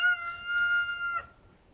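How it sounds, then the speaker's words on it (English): A farm rooster crows once, a single clear drawn-out call that is loud and close, ending abruptly after about a second with quiet afterward and no talking. "Yes, rooster, I heard you."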